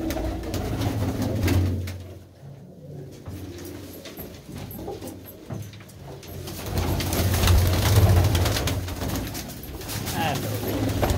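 Kalsara pigeons of an old breed coo repeatedly in soft, throaty bursts from close by, while someone talks over them throughout.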